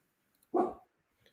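A dog gives a single short bark at moderate distance, loud and abrupt against an otherwise quiet indoor background.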